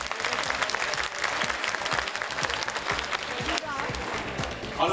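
Studio audience applause on a Turkish Saturday TV variety show, loud and dense throughout with scattered shouts and voices mixed in.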